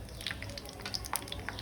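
Broken wheat frying in a pan for lapsi gives a steady, soft sizzle with small scattered crackles and pops, heard close up with no one speaking.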